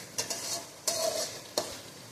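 Spice paste frying and being stirred in oil in a pan, with a soft sizzle under three quick scraping strokes of a spoon, close and moderately loud.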